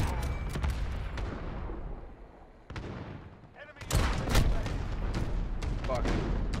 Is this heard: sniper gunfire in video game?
yes